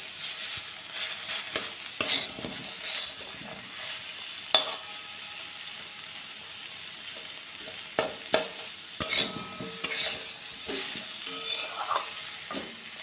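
Tomatoes being pressed into a paste in a pan of pumpkin and chickpea curry: a quiet simmering hiss under repeated scraping, tapping and clinking of a metal spoon against the pan, irregular and close.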